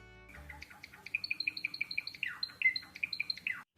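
Java sparrows chirp in a steady run of bright, quick calls, a dozen or more short notes repeating close by with a few sharper trills toward the end, and no voices.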